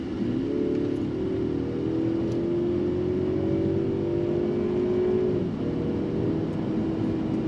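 A Mercedes-Benz CLE 300 with a 255-horsepower turbocharged four-cylinder and nine-speed automatic accelerates in Sport mode, engine note rising steadily and loud through a long pull, then dropping at a shift, with steady road and wind noise beneath.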